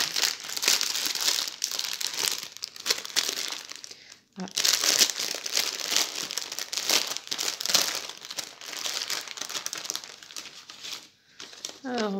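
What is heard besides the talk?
plastic zip bag crinkling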